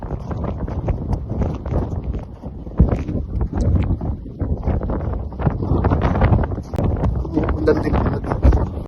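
Strong, gusty wind during a Greenland snowstorm with rain buffets the microphone in rough, uneven surges that roar throughout, loud and close.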